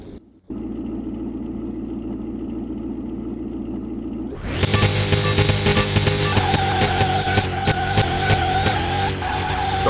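McLaren Longtail supercar in Car Mechanic Simulator 2021 starts from a steady low idle drone, then its engine revs hard and races off with tire squeal and skidding, loud and close.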